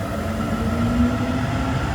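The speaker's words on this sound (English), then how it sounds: "And this train is now departing." A Gyeonggi-Jungwon Line bike train with modified end coaches departs Oksu Station, a steady rumbling roll with a faint rising motor whine, heard from the platform.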